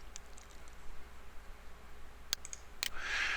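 A pair of quick, crisp mouse clicks, close and quiet, dismissing a software dialog during a Windows Server 2008 R2 setup in VMware, followed by a brief soft rustle over faint room hiss.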